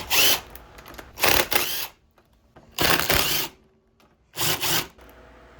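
A power tool loosens the front fork pinch bolts on a Honda CBR600 F4i motorcycle, four loud close bursts of whirring separated by short quiet pauses.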